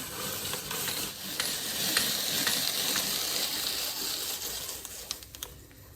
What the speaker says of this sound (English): we're just gonna turn this crank back here